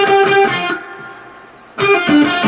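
A short electric guitar riff, bright picked notes up close, dropping to a quiet pause before the phrase resumes.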